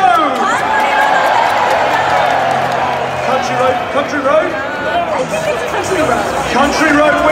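A rugby stadium crowd at a Rugby World Cup 2019 match between England and South Africa cheers loudly and steadily. Massed voices and shouts build and swell throughout as one dense roar.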